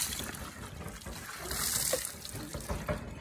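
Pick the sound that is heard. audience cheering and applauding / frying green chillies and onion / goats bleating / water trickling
water trickling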